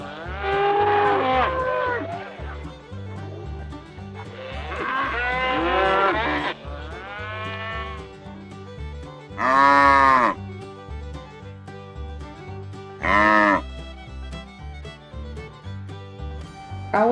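Cattle mooing in a series of loud, drawn-out calls, several overlapping at the start and then separate single moos spaced apart, with no talking.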